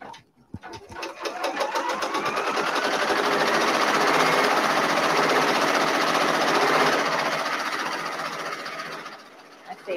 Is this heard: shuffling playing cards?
no